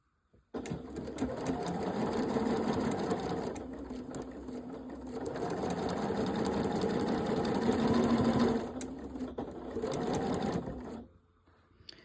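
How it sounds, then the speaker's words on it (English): A sewing machine stitches quilt blocks with a 1/4 inch foot, running loud and steady at close range in long continuous stretches with brief slowdowns, then stopping. "So I am going to start sewing right now."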